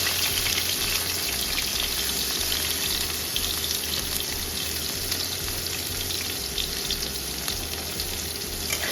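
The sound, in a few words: chopped onion and green chili frying in oil in wok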